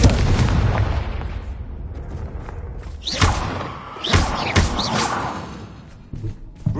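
Explosive spell blasts in a Harry Potter video game, a string of heavy booming thumps and cracks with rumbling low end, loud and close, recurring several times over a dense, noisy game soundscape.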